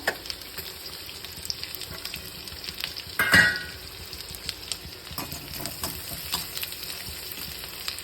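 Chopped garlic goes into oil left from frying pakoras, with the flame turned down, and gives a soft, steady sizzle with one brief louder burst partway through.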